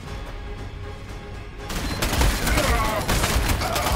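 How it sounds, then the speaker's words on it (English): Gunfire in the Warhammer 40k Sanctus Reach strategy game crackles during a battle against orcs, building into a loud, dense fusillade of rapid shots after a quieter start. "Okay, our melt guns are under fire."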